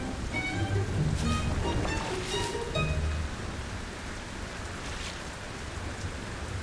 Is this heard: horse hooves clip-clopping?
no